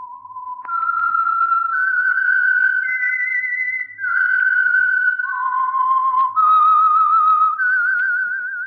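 A lone whistled melody, the theme of The Whistler radio suspense show for the Signal Oil Program, clear sustained notes stepping up and down in a slow, eerie tune without accompaniment.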